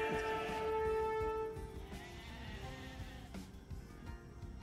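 Video game sheep from Age of Empires II let out a bleat at the start, loud and nasal with a wavering tone, then the sound drops back to quieter in-game bustle and small clicks.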